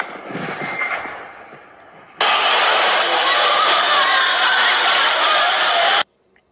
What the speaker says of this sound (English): So this is the crowd with using the sound weapon that you're talking about